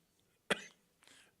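A single sharp cough from a man at a forum, followed by a softer second one, set against a quiet room.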